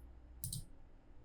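A computer mouse clicks twice in quick succession while opening Notepad from the Start button on a PC, a pair of crisp, close clicks against faint room hiss.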